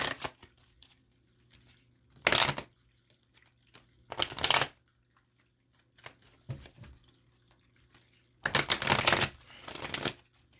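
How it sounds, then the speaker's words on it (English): Four bursts of tarot card shuffling, crisp riffling and flutter, each lasting a moment with quiet gaps between; close and fairly loud. "All right, one more shuffle."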